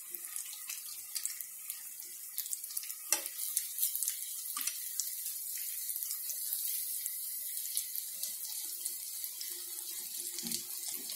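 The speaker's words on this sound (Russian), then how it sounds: "Выкладываем мясо на сковородку. Обжариваем с двух сторон." Chicken fillet frying in a pan over low-to-medium heat, a steady close hiss and fine crackle that runs throughout, with occasional louder pops and small scrapes.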